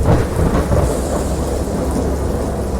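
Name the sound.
thunderstorm in a video game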